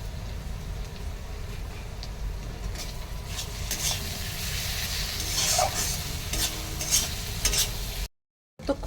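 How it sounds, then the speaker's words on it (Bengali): Egg frying in a pan with a steady close sizzle and occasional light scrapes and taps, continuous until a brief silence near the end, no talking. "ততক্ষণ এখানে আমি ডিমটা একটু ভেজে নিচ্ছি"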